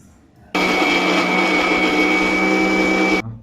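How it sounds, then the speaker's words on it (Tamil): A mixer grinder blending a coriander and nut chutney starts abruptly, runs as a loud steady whirring motor drone for about three seconds, then cuts off, close by and alone. "இப்போ இதை நம்ம வந்து அரைச்சிட்டு வந்துடலாம்."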